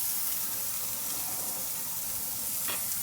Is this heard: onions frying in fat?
yes